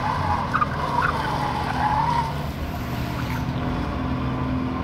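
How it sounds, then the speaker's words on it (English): A loud car at a Porsche Club autocross event roars past with a sustained engine note and tire squeal across the whole clip, with no talking over it. "I'm gonna wait for this loud car to go."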